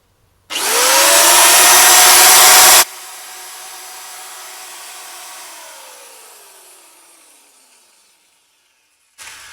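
Parkside corded electric metal shears run loudly and up close with a high broadband whine, then the motor is switched off and winds down over several seconds to silence before a brief noise at the end.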